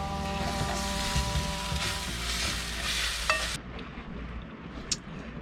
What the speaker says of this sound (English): we're making homemade udon noodles and some kind of frozen Asian veggie stir fry with various sauces